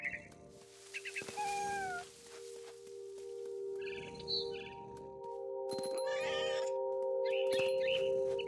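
Cat meowing in What Remains of Edith Finch, several loud, drawn-out meows and yowls, some wavering, separated by pauses, with faint bird chirps around them.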